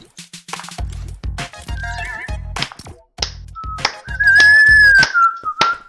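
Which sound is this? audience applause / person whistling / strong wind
person whistling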